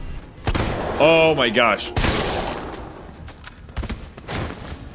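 Player gunfire in Resident Evil 3, several sharp shots cracking close by with broadband bursts spread across a few seconds, while a voice speaks briefly over the noise.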